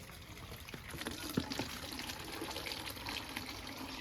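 Water runs and trickles through a vegetable garden bed with brinjal plants, a soft, steady flow with a few faint splashes, fairly distant and low in level, no talking.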